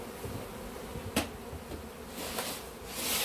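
Honeybees fanning in a hive while frames are handled in a cupboard cut-out, heard as a steady close buzzing drone with a few sharper knocks and rises.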